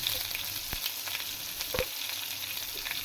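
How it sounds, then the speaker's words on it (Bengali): Brinjal fries in a pan with salt and turmeric, giving a steady hiss with a few sharp crackles and a couple of scraping stir sounds, close and fairly quiet. "এবারে নুন আর হলুদটাকে আমি মিশিয়ে দেবো বেগুনের সঙ্গে দিয়ে হালকা করে ভেজে নেবো বেগুনটা"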